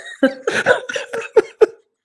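A person coughs in a quick harsh series of about six close, loud hacks that end abruptly, in an office being dusted and vacuumed.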